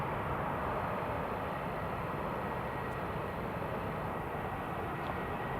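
An EasyJet airliner taxiing out at an airport, a steady broad distant engine roar that holds evenly throughout with no voices.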